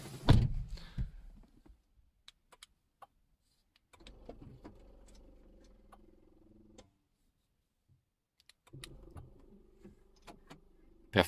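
A car door on an older Seat with 104,000 kilometres is pulled shut, giving a sharp thunk near the start, followed later by two stretches of low humming mechanism.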